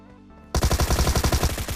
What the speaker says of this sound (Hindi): पीछे से फायरिंग की साउंड आ रही थी स्क्वाड हाउस की तरफ से